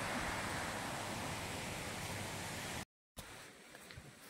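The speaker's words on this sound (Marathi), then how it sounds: "आम्ही बघितलाय धबधबा गावतळ्याचा" A waterfall at a village lake roars as a steady, dense rush of water, cut off abruptly and then returning much fainter.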